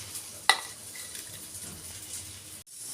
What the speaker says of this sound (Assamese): এতিয়া মই তেলত এটা এটাকৈ ভাজি ল'ম।